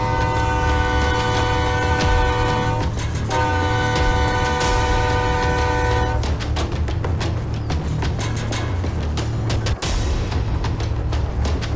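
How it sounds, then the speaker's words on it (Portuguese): A train passes at a railway crossing during a police operation in Ribeirão Preto, sounding its horn in long sustained blasts over loud, continuous rumbling and clattering wagons that dominate throughout. "Bendito trem que passou na hora certa."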